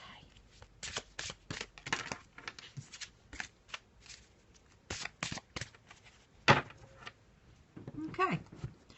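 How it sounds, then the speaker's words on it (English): Black and white Faulkner tarot cards are shuffled by hand in a series of quick riffling bursts, close and crisp, with brief pauses between bursts and faint speech-like sound at times. "Just gonna have a little shuffle and put down a card for the day"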